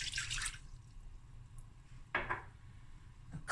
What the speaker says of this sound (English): I'm gonna add a cup of brown vinegar